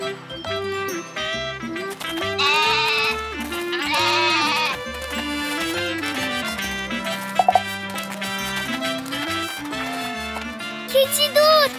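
Goat bleating in a Turkish children's cartoon, brief bleats heard over a busy, loud musical score with sound effects; no speech.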